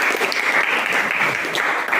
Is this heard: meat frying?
no